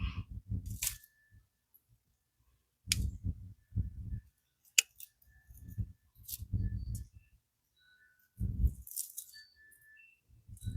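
Dead tomato plant stems being cut off in a home garden, several sharp snips and crunchy rustles in separate bursts, close and fairly loud, with quiet pauses between them.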